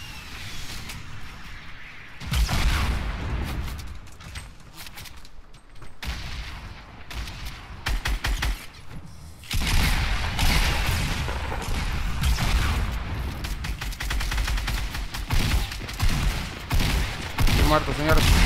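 Heavy Fortnite gunfire comes in dense bursts from many directions, with booming shots and rattling volleys that swell and break off over the game's din while a player talks excitedly over them.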